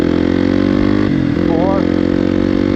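A motorcycle engine drones steadily as the bike accelerates through the gears on a road, close and loud, with the rider talking over it.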